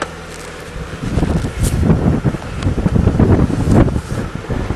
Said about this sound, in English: It's awful windy today,